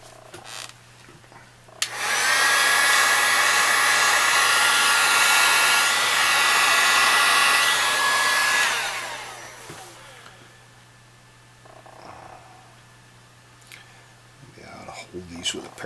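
A heat gun warms capacitors on a Kenwood TS820s radio, its steady loud blowing whine starting abruptly, running for about seven seconds and then shutting off and winding down, with faint handling noises afterward.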